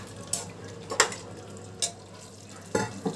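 Mutton keema and potatoes frying in a pan, a few distinct scraping strokes of a spoon stirring at uneven intervals over a soft background sizzle, close and moderately loud.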